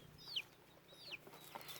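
Soft chicken clucks, a few short calls spaced apart, fairly quiet against a low background hum.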